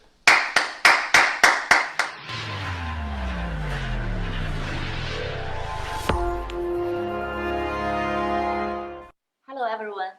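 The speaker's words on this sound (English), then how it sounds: "So please give them a big virtual round of applause." A quick run of about seven sharp, evenly spaced claps for a virtual round of applause at an online Global Entrepreneurship Week event, followed by a long swelling synthetic tone and a brief voice at the end.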